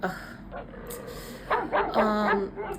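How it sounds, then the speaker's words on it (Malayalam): A dog yips and barks in short bursts, a little whiny, close by, mixed with a person's voice in the background. "എൻ്റെ പട്ടി കിടന്ന് കുറയ്ക്കുന്നു വീട്ടിൽ കിടന്നുകൊണ്ട്"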